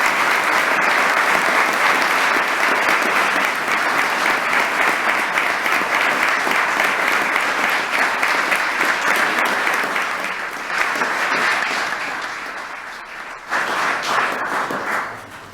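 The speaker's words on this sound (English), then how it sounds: "Let's give them a well-deserved round of applause." At a 2019 Law Day court celebration, a large audience gives sustained applause for officers receiving service awards: loud, dense clapping that holds steady, thins out, then swells briefly again before fading.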